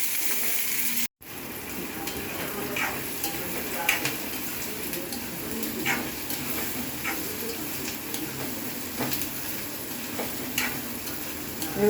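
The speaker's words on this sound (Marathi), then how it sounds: "पण हा कांदा आता व्यवस्थित परता लाल होईपर्यंत." Chopped onions sauté in a hot pan for roasted baingan masala, a steady close sizzle with repeated ticks and scrapes of stirring at an uneven rhythm throughout, broken by one brief silent gap near the start.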